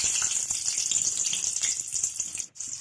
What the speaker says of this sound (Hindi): तेल को गर्म होने के बाद दोस्तों अच्छे से इसमें हम दो हरी मिर्च डालेंगे।